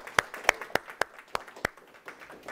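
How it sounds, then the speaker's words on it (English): Scattered hand claps ring out, a handful of sharp, uneven claps from a small group, thinning out toward the end with no talking. "can we give Teresa a round of applause"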